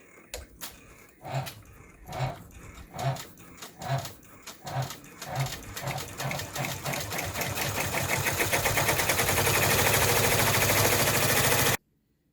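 Embroidery machine stitching vinyl around the hoop for an in-the-hoop zip bag, starting with a few spaced clunks and then a fast, steady mechanical chatter that builds louder before stopping abruptly.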